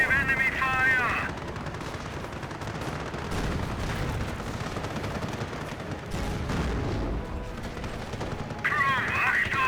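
Dense gunfire and explosions from a Company of Heroes 1 multiplayer match, US versus Panzer Elite, rattling and booming continuously for about ten seconds, with a game voice announcement at the start and end.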